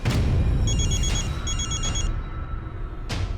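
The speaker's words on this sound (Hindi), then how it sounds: "अरे किसी का फोन बज रहा है" A telephone rings in two short electronic trill bursts, fairly clear over background room noise, followed by a brief click.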